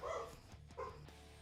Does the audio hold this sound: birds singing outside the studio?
no